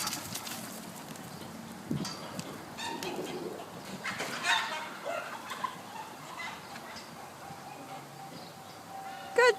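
Roosters squawk and cluck in a scattered, agitated way as dogs chase them out of a backyard, with a person calling out intermittently in the background.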